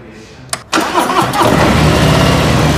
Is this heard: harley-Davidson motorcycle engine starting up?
yes